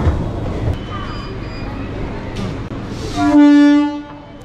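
A Chennai suburban train departs St Thomas Mount railway station amid a low rumble of station and carriage noise, then a loud sustained horn blast sounds close by near the end.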